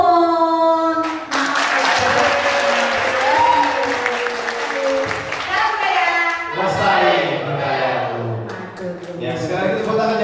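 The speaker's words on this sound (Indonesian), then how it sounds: "sekarang itu tepuk tangan yang untuk para saudara" Sustained audience applause at a traditional Javanese ketoprak theatre discussion forum, dense hand clapping filling the room for about ten seconds, with voices calling out over it.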